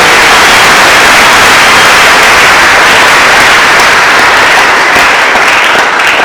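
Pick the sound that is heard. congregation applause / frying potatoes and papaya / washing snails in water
congregation applause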